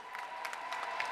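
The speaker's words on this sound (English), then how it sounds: "Big round of applause for our start line judges." Applause from an audience at the F1 in Schools World Finals in Abu Dhabi, a brief steady patter of many hands clapping at moderate distance, fairly soft.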